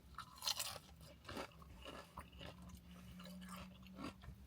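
Crunchy fried Panda Express food dipped in sweet and sour sauce is chewed close up, giving a few sharp crunching bites followed by softer, quieter chewing, with no speech.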